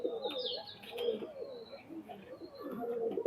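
Teddy Golden Cross pigeons, a young pair, cooing and calling softly in a loft, with several overlapping throaty coos and a few brief chirps, fairly faint and close, without talk.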